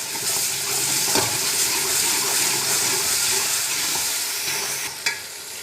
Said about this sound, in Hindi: लहसुन अदरक को भूनते हुए तकरीबन 1 मिनट हो गया था, तो अब मैंने टमाटरों का पेस्ट डाल दिया है। मिक्स करेंगे।